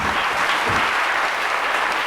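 A large audience at a Hindi spiritual discourse by Asaram Ji Bapu claps in dense, continuous applause, loud and even throughout with no pauses.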